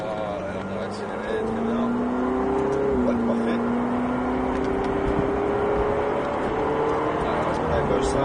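Ferrari 488 GTB accelerating hard through the gears on the Folembray race circuit, a steady loud engine drone with rising pitch sweeps and a brief shift dip, with a voice talking over it.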